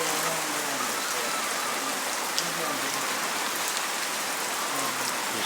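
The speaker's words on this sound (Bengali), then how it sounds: "নিরিবিলি আকারে বৃষ্টি হচ্ছে।" Gentle, steady rain falls with a soft continuous patter on surfaces and occasional louder drops, a calm outdoor shower beside a pond with no talking.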